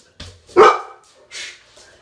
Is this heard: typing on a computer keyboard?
no